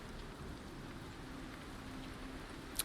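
Steady rain falls and patters on surfaces in a dark fantasy tabletop setting, with a soft continuous hiss throughout and one small sharp tick at the very end.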